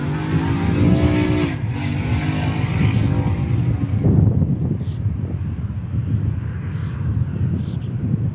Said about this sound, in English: there's Air France. Taxiing.